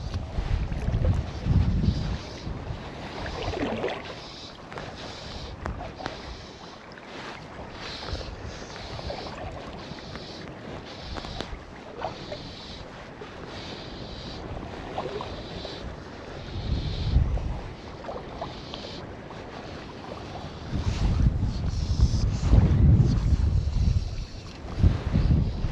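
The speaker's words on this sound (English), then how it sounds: "the wind's not doing me any favours" Gusty wind blows across an open hillside during fly fishing in the Galloway Hills, low buffeting rumbles swelling and fading in strong bursts against the microphone, with quieter lulls between and no talking.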